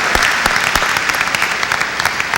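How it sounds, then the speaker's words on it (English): A university convocation audience gives another round of applause after thanking the president, a dense burst of many hands clapping with a few sharp, close claps standing out. "Let's give him another round of applause."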